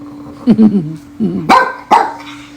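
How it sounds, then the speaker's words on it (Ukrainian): A dog barks indoors in a home, several sharp close barks and yips in short bursts over a steady background hum, with a person's voice nearby. "А чого ти на неї гавкаєш?"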